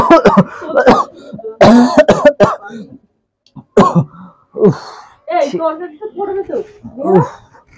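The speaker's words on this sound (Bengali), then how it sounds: "কাশি হচ্ছে খুব, তাই জন্য গো।" A few rough, close coughs and throat-clearing bursts, mixed in with a person talking between them.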